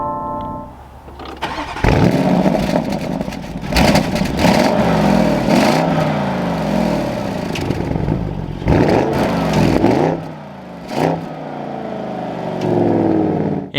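A 2023 Porsche Cayenne Turbo engine cranks and fires up, then revs several times with rising and falling sweeps, loud and close, settling into idle between blips.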